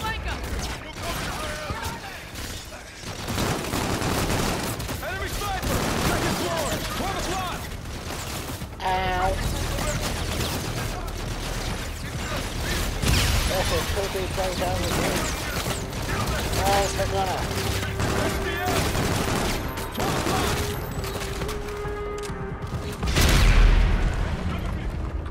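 Weapon fire from the sci-fi shooter game Call of Duty: Infinite Warfare, with dense bursts of shots and explosive booms running throughout under ongoing player talk.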